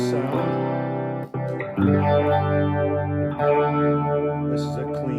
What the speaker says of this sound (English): This is a clean chorus sound.